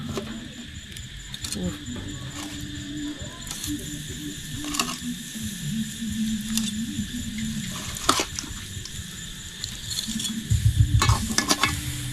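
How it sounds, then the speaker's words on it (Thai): Shrimp sizzle on a grill during a Lao New Year meal with family, a steady crackle that runs through the whole clip, with clinks and mechanical rattles over it and a brief louder burst near the end. "ปิ้งกุ้งกับเห็ดเจียวซีฟู้ดแซ่บๆ กินกับพ่อกับแม่เนาะ"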